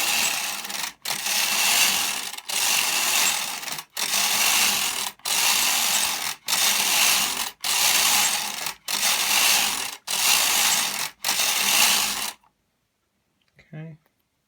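A knitting machine knits rows of cable fabric: about nine loud, sustained rattling carriage passes, each a second or so long, separated by brief clacks at the turnarounds, then near silence with a faint knock at the end.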